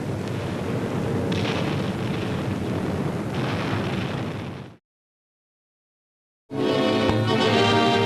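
Archival D-Day footage of 2,000-pound bombs striking coastal gun positions on the French coast, heard as a sustained loud rumbling roar of blasts. It cuts to silence, then a second loud rumbling stretch begins.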